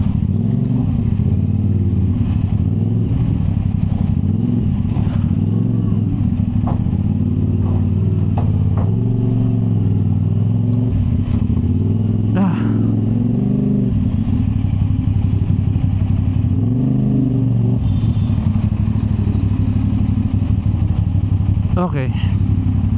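Road traffic at a stoplight mixes idling motorcycles, including a CF Moto 450 SR-S, and cars in a continuous loud engine rumble with occasional revs and horn-like chirps, heard up close with a rider talking throughout.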